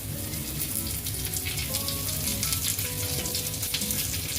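Onion frying to golden brown in a pan with curry leaves added, a dense, loud, continuous sizzle with occasional crackles and no talking.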